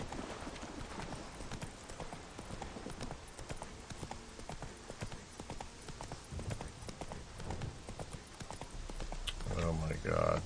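Hoofbeats of Roach, a horse in a video game, clop in a steady rhythm throughout, with a voice talking over them and the sound growing louder near the end.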